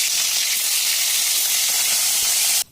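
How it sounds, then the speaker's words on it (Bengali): Hilsa fish heads frying in hot oil make a steady, loud, close sizzle and hiss that continues without pause and then cuts off abruptly. "তেল বসিয়ে দিয়েছি, এবারে মাছের মাথাগুলো ভেজে নিচ্ছি"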